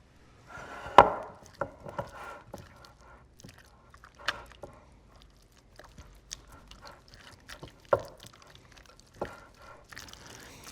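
A block of softened cream cheese being stirred into smoked buffalo chicken dip, giving quiet, irregular squelching and scraping taps, with a few sharper knocks from the spoon against the bowl.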